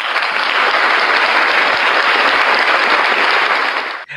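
Loud, dense applause from a podcast audience welcoming a guest teacher, continuous and close, cutting off abruptly at the end.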